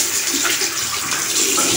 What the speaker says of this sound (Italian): io ricordo sempre che metto un po' d'acqua in più